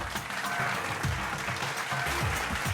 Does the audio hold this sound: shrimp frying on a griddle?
no